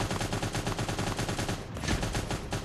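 Rapid automatic gunfire from the video game Cyber Hunter rattles continuously and loudly for nearly three seconds, with a brief dip midway before the burst resumes.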